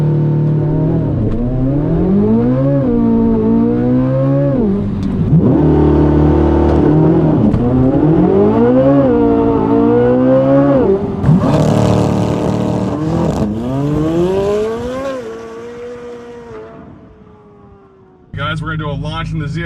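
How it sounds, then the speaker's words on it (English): Corvette C8 Z06 launching hard under launch control, its engine screaming upward through several rapid gear changes in a loud close run, then easing off and falling quiet before a final burst of noise. "I'm gonna do a launch control in the Z06."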